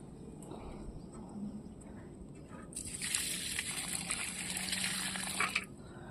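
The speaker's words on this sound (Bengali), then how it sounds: "গাছগুলোতে জল দিয়ে দিই" Water poured onto garden plants on a still, sunny morning, sloshing and gushing loudly for a few seconds after quieter outdoor background.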